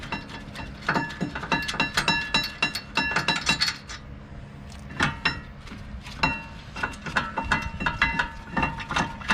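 Wrench ratcheting and clicking on two 19 mm rear brake caliper bracket bolts of a 2011–2013 Infiniti JX35, with a rapid run of metallic clicks, a brief pause, then more clicking, close and fairly loud.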